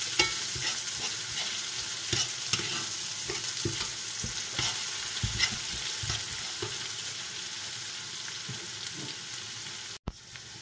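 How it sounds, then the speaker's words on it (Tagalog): Garlic sizzles and crackles in hot oil in a pan, a steady close frying hiss broken by scraping stirs, ending with a brief clunk. "dagdagan natin siya ng oil. Kasi maganda nito medyo oily. Para maprito natin yung ating"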